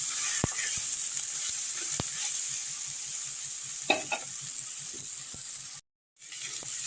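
Cumin and coriander powder are stirred into sizzling ingredients in a pan for a mung dal with fish heads, a steady frying hiss with occasional spoon scrapes and taps against the pan, briefly cutting out near the end.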